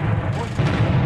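Booming blasts from front-line fighting in Bakhmut, Ukraine, a dense rumbling burst filling about a second, loud and close with faint voices mixed in.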